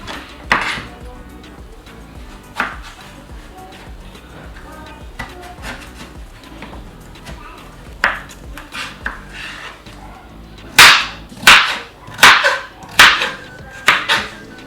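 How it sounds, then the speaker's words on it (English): A kitchen knife chops vegetables such as carrots into big chunks for roasting, with sharp cutting knocks against a board scattered early on and then a quick run of loud, close chops near the end. "We're gonna cut this into big chunks too, but we're gonna give it time to cook."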